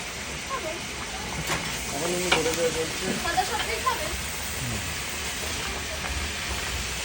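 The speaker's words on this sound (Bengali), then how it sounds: "সবজিটা কিন্তু হালকা ভাজা ভাজা হয়ে গেছে একদম" Potatoes and pointed gourd fry in a pan for a curry, making a steady, close sizzling hiss that runs throughout, with faint voices talking beneath it.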